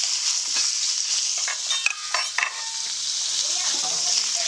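Beef stroganoff ingredients frying in a pan, with a bright continuous sizzle while utensils scrape and clink against the pan as the food is stirred, and no one talking.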